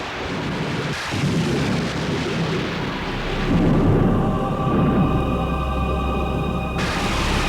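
Thunder rumbles through a stormy night, a continuous deep roll that swells midway, with steady rain-like hiss underneath and no voices, loud and close.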